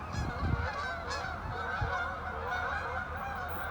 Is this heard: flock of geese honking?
yes